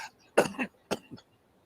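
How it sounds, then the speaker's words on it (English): A few short, sharp coughs close by, two clustered bursts with a brief pause between them, then quiet. "He must be coughing up a lung."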